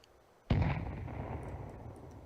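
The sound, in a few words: grenade explosion in a video game (Counter-Strike)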